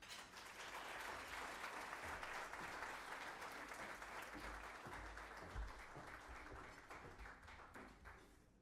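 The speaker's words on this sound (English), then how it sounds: "Once again, let's give her a huge round of applause." An audience at a university awards ceremony claps in sustained, dense applause that holds steady and then tapers slightly toward the end.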